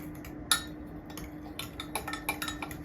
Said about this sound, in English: And we'll just mix that with a fork